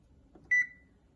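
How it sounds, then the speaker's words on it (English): A kitchen oven gives a single loud electronic beep, clear and close, while being set to preheat to 350 Fahrenheit for baking a fruit cake, with quiet room noise around it. "Meanwhile, let's preheat our oven"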